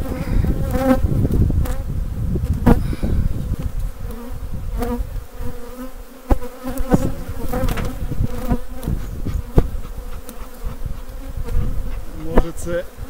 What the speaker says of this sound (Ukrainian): Бджола жовта.